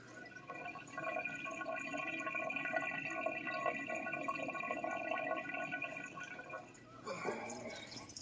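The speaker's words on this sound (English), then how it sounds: "Hopefully you can hear that running water either in the sink or under the sink." Water from an Aquasure AS-PR75A filter runs steadily into a sink drain, a continuous gurgling flow that cuts off and changes character near the end.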